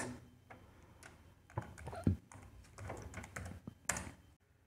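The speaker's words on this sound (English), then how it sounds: "here i will type weather" Keys clatter on a computer keyboard, close and moderately loud, in short irregular bursts of tapping with brief pauses, no speech.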